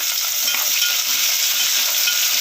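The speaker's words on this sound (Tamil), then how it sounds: "வெங்காயம் நல்லா வதங்கட்டும்" Chopped large onions sautéing in a hot pan for sambar, a steady loud bright sizzle with faint stirring, close up and continuous without any talk.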